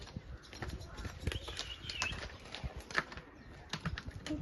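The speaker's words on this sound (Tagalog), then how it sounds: "Diyan nalapit ang kabayo." A horse approaches, its hooves clip-clopping in a loose, uneven patter, fairly faint and set against soft outdoor background noise near a small roadside shop.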